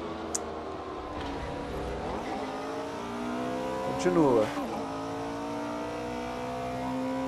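A Porsche race car engine in Assetto Corsa revs and drones through gear changes, rising and falling in pitch, with a louder surge midway; someone talks over it throughout.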